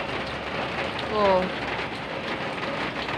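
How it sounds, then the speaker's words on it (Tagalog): Steady rain pours down, a dense even patter on surfaces, with a person briefly exclaiming partway through. "Sugay ang ulan guys"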